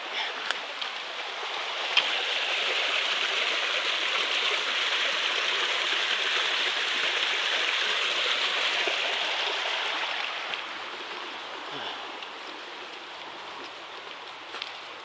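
River flowing along the Appalachian Trail past logs, a broad steady rushing of water that is close and continuous, easing slightly toward the end, with no talk.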